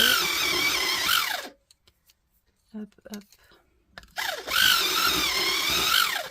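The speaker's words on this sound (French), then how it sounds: "Excusez-moi pour le bruit, je taille." A whirring electric sharpener grinds a pencil in two loud bursts with a quiet gap between, where a voice speaks briefly.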